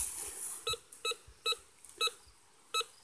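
A metal detector beeps over a buried brass or zinc lock plate, five short, evenly spaced tones sounding close and clear against faint outdoor hiss.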